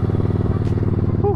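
An old Yamaha Vixion with an engine enlarged to 195 cc runs with a close, steady, throbbing idle pulse. A voice briefly comes in over the engine near the end.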